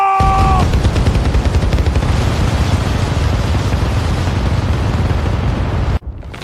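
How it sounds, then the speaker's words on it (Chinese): Sustained animated gunfire following an order to open fire, a loud, dense rattle of rapid shots running continuously for about six seconds before cutting off abruptly, with a brief tonal alert at the very start. "开火！"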